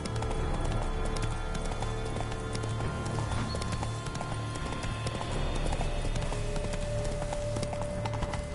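Galloping hooves of Roach, Geralt's horse in The Witcher 3: Blood and Wine, pound in a steady, continuous clip-clop rhythm over a game soundscape with a sustained low hum, with no talk throughout.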